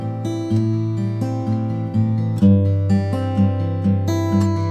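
An acoustic-style guitar plays a strummed chord progression through a warm EQ preset, giving a full, warm, bass-heavy tone and softened pick attack, loud and close.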